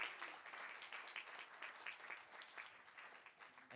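An audience at a TEDx talk gives a speaker a round of applause, with dense, continuous clapping from a crowd that sounds fairly distant and moderately quiet.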